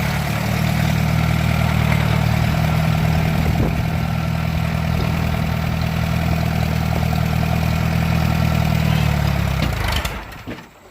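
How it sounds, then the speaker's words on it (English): A skid loader engine runs steadily on a farm, a loud, continuous low rumble with a faint clatter that holds for about ten seconds before cutting off near the end. "I'm going to have to move that skid loader too"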